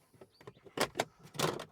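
A small plastic access door behind the emptied glove box of a Toyota being pulled open by hand: a series of close, quiet plastic clicks and scrapes ending in a couple of firmer snaps.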